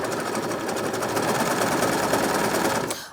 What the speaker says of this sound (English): I'm just going to be sewing right on the edge here